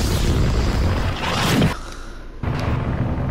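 A missile strike explodes in Fortnite, a loud broadband boom rolling under dense game noise, cutting to a brief near-silence before the din resumes.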